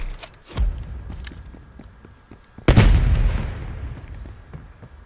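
A spawn tube fires in Black Ops Cold War on the Garrison map. A sharp, loud burst of launch noise with a booming low end hits partway through and decays over a couple of seconds, with a few softer pops and thumps before it.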